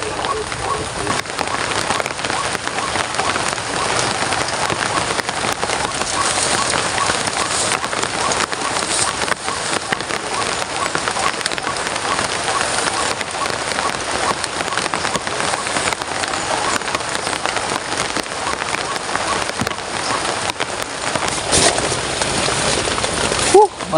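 Heavy rain pours steadily onto a surface nearby, a dense continuous hiss that stays loud throughout with no letup.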